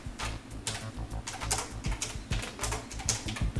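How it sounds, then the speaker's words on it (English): Quick, uneven clicks of keys on a computer keyboard as a short name is typed, close up and fairly quiet, in bursts with brief pauses. "I'm just going to type in the name of my comic."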